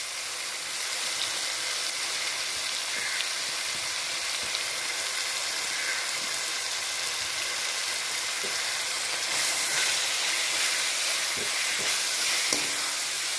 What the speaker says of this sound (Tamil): நல்லா கொஞ்சம் வதங்கட்டும்.